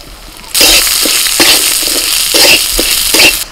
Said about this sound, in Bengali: আর মুগের ডালটা ঘিয়ের মধ্যে ভেজে নেব।